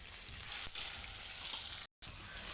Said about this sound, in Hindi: मगज़ को जो है 5 मिनट तेल में फ्राई करेंगे